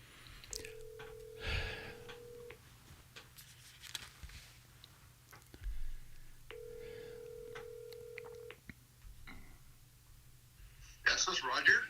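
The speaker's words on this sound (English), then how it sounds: "I'm going to call Roger" A telephone call is placed: two long steady ring tones a few seconds apart, faint and thin, with soft breathing and small handling noises between and a short burst of higher tones at the end.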